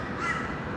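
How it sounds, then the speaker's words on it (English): A crow caws once at Brisbane Airport, a short harsh call rising out of a steady, fairly loud ambient rumble from the airfield. "we get a lot more crow sounds, it would seem"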